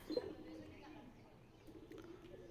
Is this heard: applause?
no